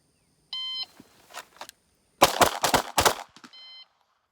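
Pistol drill shots at targets on a cold range, a start beep followed by a tight burst of about four loud, sharp cracks fired in quick succession, then a closing beep.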